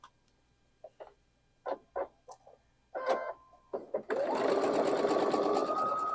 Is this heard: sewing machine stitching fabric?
yes